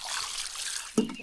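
Cold, fresh mountain water flowing at dawn in a Himalayan village in Uttarakhand, a soft continuous trickle and gurgle with a brief splash near the end.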